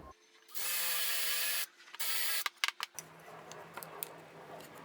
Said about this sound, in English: It's a 3/4 dowel, so I'm using a 3/4 inch Forstner bit.